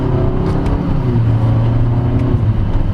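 A 2022 Honda HR-V S crossover accelerates in sport mode, its engine drone rising steadily and loud from inside the cabin, with road noise beneath and no talk.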